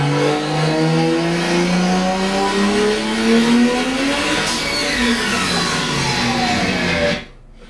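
Turbocharged car engine revving hard, its pitch climbing steadily through the gears before a sharp change and fading, loud and close, then cutting off abruptly at the end.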